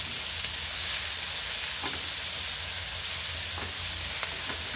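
Shrimp paste (alamang) frying with tomatoes for Bicol Express, a continuous close sizzle broken by a few faint clinks from stirring, with no voices.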